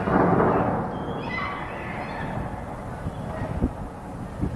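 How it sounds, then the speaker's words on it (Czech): Thunder cracks during spring snowfall, a loud clap at the start that settles into a long, low rolling rumble with a few fainter thumps. "Že by to byl hrom, to prapodivu."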